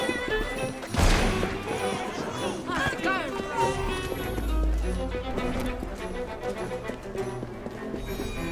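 Rhythmic clip-clopping of horse hooves in Assassin's Creed Syndicate, layered over a busy soundtrack of music and effects, with a brief crash near the start.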